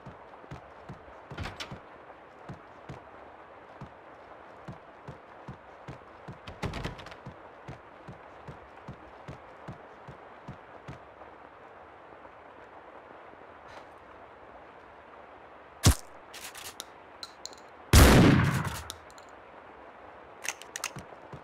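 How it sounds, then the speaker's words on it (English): Shotgun blasts in the Max Payne 2 game: a faint, almost silent first shot, then a loud, booming blast, with scattered quiet taps and clicks around them. "Sounds like a silent shotgun on that first shot."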